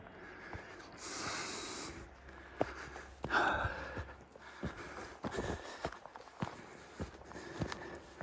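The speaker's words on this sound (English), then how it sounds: "Sorry for the heavy breathing." Heavy, labored breathing of a walker hiking uphill in the Peak District near Edale, with close, rhythmic breaths and snorts alongside scuffing footsteps on an outdoor trail.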